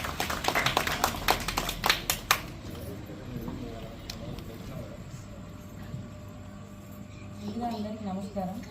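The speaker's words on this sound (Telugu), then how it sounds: "క్లాప్స్" Audience clapping at an International Women's Day event, a burst of dense claps over the first couple of seconds that fades out into murmuring room noise and a voice near the end.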